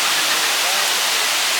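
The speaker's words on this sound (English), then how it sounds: "just like this reverse waterfall. As the water is flowing up, not down" Dense, even hiss of rushing water from the reverse waterfall at EPCOT, where water flows upward, a steady broadband splash without breaks, loud and close.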